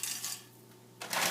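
Crunchy ingredient cracked up by hand for a Jimmy Dean taco bake, giving two brittle bursts of crackling and crunching with a quiet gap between them and a low steady hum underneath.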